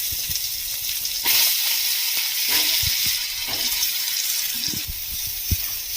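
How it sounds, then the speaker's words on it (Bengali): Pumpkin and eggplant frying in oil in a pan, a steady sizzling hiss with occasional soft knocks and stirring taps, close and continuous with no talking. "এবারে তেলের ওপর দিয়ে কুমড়ো আর বেগুনটা একটু ভেজে নেব।"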